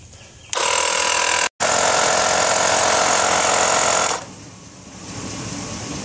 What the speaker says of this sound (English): These small 12-volt inflators, they're not the best thing in the world